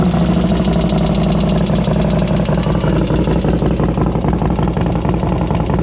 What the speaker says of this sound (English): Now that lifter noise, because they were unable to prime it, is gone.